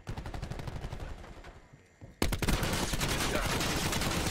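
Rapid automatic gunfire rattles in Call of Duty Black Ops 4 multiplayer, a burst that fades briefly before a louder, denser stretch of close sustained shooting resumes.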